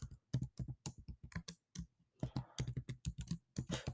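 Keys clatter on a computer keyboard as a password is typed: quick, irregular bursts of close, crisp clicks with short pauses between groups.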